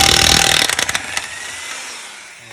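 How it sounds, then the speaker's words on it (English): A wrench works loose a seized lug nut on a wheel rim: a loud buzzing mechanical burst, then a quick series of sharp rattling impacts that trail off into quieter ringing. "Now I'm going to go ahead and try it again with my wrench."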